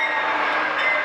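Steady, loud rumble of a train at a railway station, a broad continuous roar of rolling carriages that holds even throughout with no voices over it.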